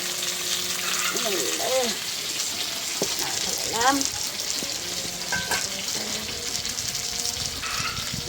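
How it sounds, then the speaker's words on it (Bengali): Fish sizzles and crackles steadily as it fries in a pan in a rural Bangladeshi kitchen, with faint voices and a few bird or clatter sounds in the background. "এই দেখো তো মাছটা হয়ে গেছে না এখন? ভাজা হয়ে গেছে না?"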